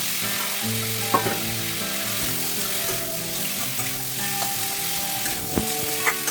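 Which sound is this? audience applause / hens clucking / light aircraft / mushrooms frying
mushrooms frying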